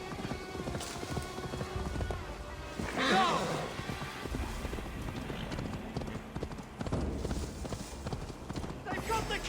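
A horse gallops in Assassin's Creed Valhalla, its hoofbeats a quick, steady clip-clop under game ambience, with a brief louder burst partway through.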